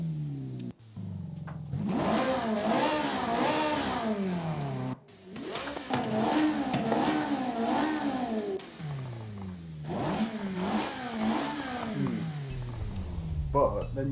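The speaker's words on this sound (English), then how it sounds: "So I can rev it up now." A car engine revs up and down repeatedly in the video game Forza Horizon 5, its pitch climbing and falling in rising sweeps, loud and close, with speech faintly underneath.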